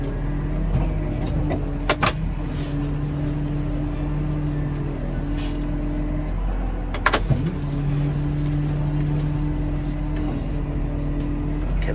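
A tractor on a New Zealand farm, out spreading fertiliser, edges through a narrow paddock gateway into a race. Its engine holds a steady, close drone throughout, broken by a couple of brief knocks.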